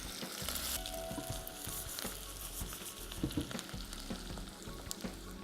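Sliced onion with a pinch of salt sizzles in a pan for a vegetarian lubia biryani, a steady soft frying hiss with occasional faint stirring scrapes and pops.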